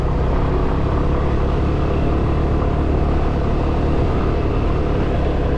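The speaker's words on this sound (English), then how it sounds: "I love exploring an island on a motorbike." A motorbike rides along an island road on Nusa Penida, Indonesia, with a loud, steady engine drone and heavy road and wind rumble running throughout, and no voices.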